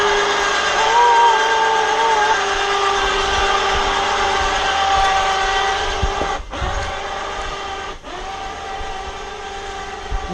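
A cordless Harbor Freight electric hoist retracts its cable to lift shingles up a roof, a loud, steady motor whine with humming tones held for about ten seconds, briefly dipping twice as it strains.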